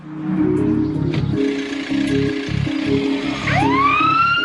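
An ambulance siren wails in rising, sweeping tones over low rumbling traffic noise, growing louder toward the end as the ambulance draws near.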